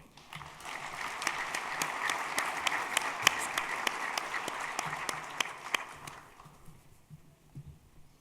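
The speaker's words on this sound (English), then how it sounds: "Let's give one more round of applause to all of our Medal of Life-Saving recipients." Audience applause at a police department annual awards ceremony honoring life-saving medal recipients: a sustained, dense crowd clapping with sharp individual claps poking through, fading out over the last couple of seconds.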